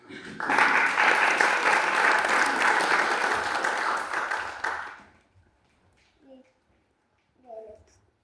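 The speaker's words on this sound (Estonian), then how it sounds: "te võite aplausiga vastu võtta" An audience at a folk dance evening in the Lasva community house claps loudly for about five seconds, then the applause fades out, leaving near-silence broken by a couple of short voice sounds.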